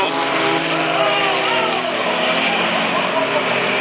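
Junior sedan race cars roar off the start at Mac's Speedway, a dense loud wall of engines revving together, with a commentator talking over the pack.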